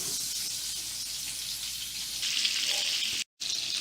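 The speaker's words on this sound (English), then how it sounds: "Here are our meatballs frying up nicely." Swedish meatballs in a frying pan, a steady bright sizzle close by that grows slightly louder partway through, with a brief dropout near the end.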